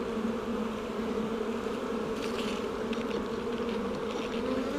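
A honeybee buzzes near a hive during a spring inspection, a continuous, fairly loud drone that holds steady for several seconds, close by, with slight wavering as it moves and no talking.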